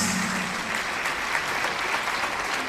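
Applause for a demolition award winner at an online summit, a dense, even wash of clapping that holds steady and fairly loud throughout without voices.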